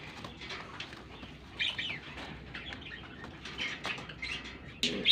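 Fancy pigeons at a farm, with soft bursts of wing flapping and light rustling, faint coos and chirps mixed in, fairly quiet and close.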